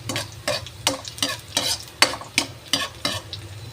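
Garlic and ginger sautéing in a pan for sinigang na maya-maya sa miso, a steady sizzle broken by regular stirring scrapes about every half second, close and clear with no talk.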